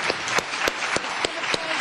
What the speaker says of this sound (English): I would like to give the panel a good round of applause for their participation